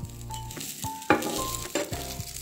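A snack fries in ghee on a flat pan, giving a soft sizzle broken by a few sharp scrapes and knocks as it is turned over; brief and close.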